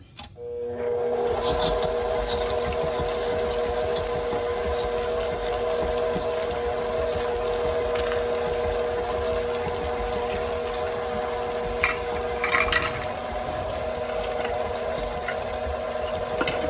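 An electric stand mixer runs continuously while stirring cookie dough for white chocolate macadamia nut cookies, a steady motor whine with a constant hum and a faint scraping rattle, close and without talk.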